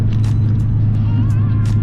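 Road traffic in San Antonio, Texas, rumbles steadily and loudly past, a close continuous drone of passing cars with a few brief higher swishes.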